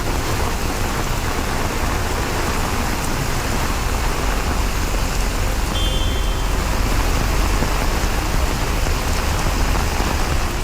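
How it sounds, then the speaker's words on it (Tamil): Heavy rain pours steadily for over three hours in Tiruvallur district, a dense, loud, unbroken hiss with a deep low rumble and no voices, while faint traffic noise sits underneath. "திருவள்ளூர் மாவட்டத்தில் சுமார் 3 மணி நேரத்திற்கு மேலாக கொட்டி தீர்த்த கனமழை"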